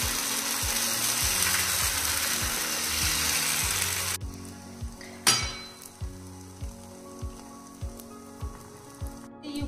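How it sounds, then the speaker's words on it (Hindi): Wheat-flour batter for sweet chillas hisses loudly as it spreads across a hot pan, then the sizzle cuts off abruptly, leaving a steady rhythmic mechanical clicking that runs through the whole stretch. "हमने जो घोल बनाया है उसे इस पैन में डालेंगे। धीरे धीरे से इस तरीके से फैलाएंगे।"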